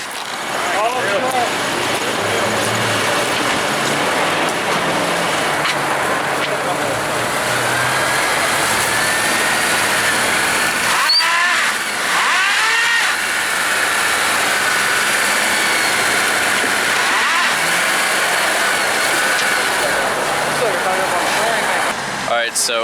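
An old Chevrolet C10 pickup truck does a burnout in a parking lot, its engine roaring loud and steady under the hiss of spinning tires throughout, while people talk over it.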